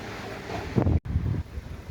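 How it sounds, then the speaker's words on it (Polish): Strong wind buffets the microphone in loud, rough gusts, with a brief cutout in the middle before the roaring rumble resumes. "wiatr straszny wieje"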